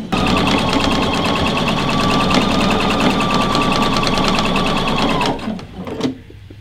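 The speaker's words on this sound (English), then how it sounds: "so I'm going to go ahead and back stitch, and I'm done." Christmas stocking fabric is sewn on a machine in one loud, continuous whirring run with fast, even needle ticking close by, which stops abruptly near the end and is followed by a few soft handling clicks.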